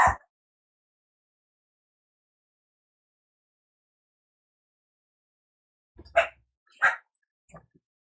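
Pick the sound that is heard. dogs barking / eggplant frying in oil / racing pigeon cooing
dogs barking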